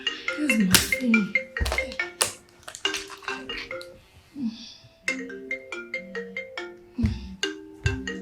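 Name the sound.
mobile phone ringtone ringing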